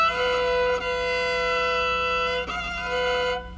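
Fiddle bowed with the side of a finger brushing the neighbouring open string, giving a sustained, harmonically rich drone with a slightly rough edge, steady and close for a few seconds with brief dips in the bow stroke.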